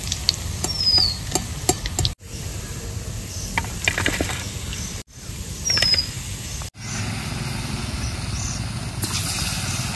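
Batter for palm fruit fritters (taler bora) sizzles steadily in hot oil, a close, continuous crackle broken by a few short clinks and gaps.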